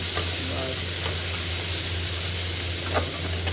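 Onion and capsicum sizzle steadily in a hot kadai, a continuous close frying hiss with occasional stirring scrapes and no talking.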